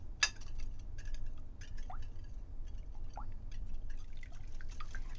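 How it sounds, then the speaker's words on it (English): Eggs whisked into milk with vanilla and cinnamon in a bowl, giving soft wet drips, light liquid splashes and faint clinks of the whisk against the bowl, close and quiet. "I really like the sound created by the eggs mixing into the milk"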